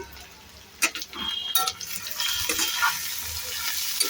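Cauliflower stirred in a hot pan: a few scraping clinks of a spoon, then a steady soft sizzle that keeps going, faint and close, with no voices.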